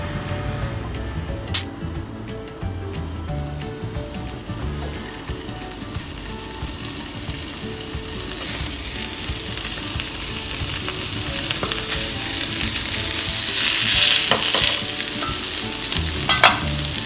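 Chicken pieces frying on a hot tava pan, a steady close sizzle with scraping and stirring clatter running throughout, no voices.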